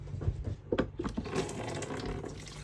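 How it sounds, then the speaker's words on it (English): Tap water runs into a kitchen sink while hands are washed, a steady close broadband splash with a few brief clatters and shifts in the flow, no talking. "can Dad wash his hands now?"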